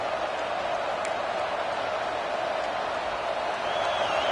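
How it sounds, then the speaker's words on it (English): Crowd noise at a football stadium early in a game, a steady distant roar that stays at an even level throughout, with no clear peaks of cheering. "Listen to the crowd energy here in the early going."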